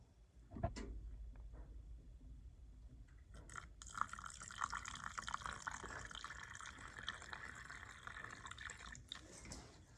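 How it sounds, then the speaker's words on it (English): Liquid paint pours in a steady trickling stream from a full can fitted with a spout, close and quiet, following a brief clunk of the can being handled. "This is a full can, so I gotta be careful about pouring it."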